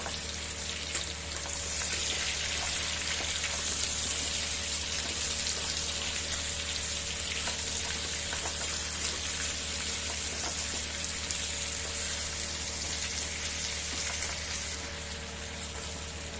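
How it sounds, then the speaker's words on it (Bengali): Pumpkin and potato frying lightly in oil left from prawns, a steady dense sizzle and crackle that holds close and even throughout with no talk. "ওই তেলের মধ্যে আমি দিয়ে দেব কুমড়ো আর আলু এগুলোকেও হালকাভাবে ভেজে নেব আমি"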